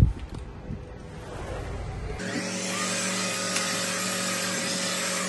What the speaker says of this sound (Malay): saya akan menolong ibu saya membersihkan ruang tamu menggunakan alat pembersih vakum